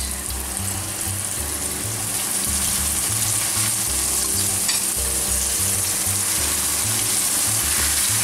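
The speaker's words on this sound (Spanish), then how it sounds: "Una vez tenemos el aceite caliente, vamos a ir friendo las caballas." Mackerel sizzles and crackles steadily in hot oil, a loud, continuous frying hiss close by, with no talking.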